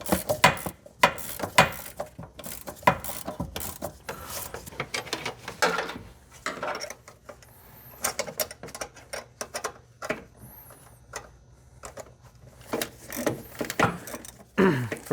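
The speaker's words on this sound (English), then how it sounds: "We'll get them started and then put the 13mm wrench on the back and use a" Wrench work on the nuts of a Chevy Express / GMC Savana brake booster: a 13mm wrench on the back and a 15mm on the front, giving irregular, close ratcheting clicks and metallic taps in bursts, with quieter gaps between.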